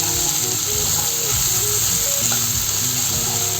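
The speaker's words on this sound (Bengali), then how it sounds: "পেঁয়াজটা অল্প অল্প ভেজে নিয়েছি। এখন আমি আদা বাটা দিয়ে দিচ্ছি।" Sliced onions sizzling loudly in hot oil in a pan as ginger paste is added for a Bengali potato-prawn curry, a dense continuous frying hiss with stirring clicks throughout.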